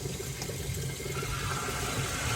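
Cold water runs steadily from a tap into a sink after the supply valve is reopened, passing through pre-filters for an ionizer; a constant, fairly loud broadband rush with no talk.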